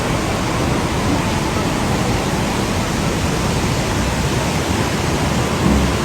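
Broadband rushing roar of flash flood water rising in Ruidoso, New Mexico, pouring off wildfire burn-scarred slopes; steady, loud and unbroken throughout, with no voices.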